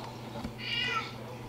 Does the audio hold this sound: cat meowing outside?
yes